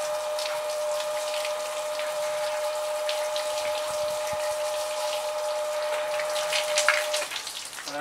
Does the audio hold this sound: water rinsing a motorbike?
yes